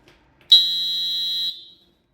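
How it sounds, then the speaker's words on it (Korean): A loud, steady high-pitched alarm tone from a rechargeable electronic whistle, TG-E192, sounds for about a second, then cuts off with a brief fading tail. "소리 1번 경보음"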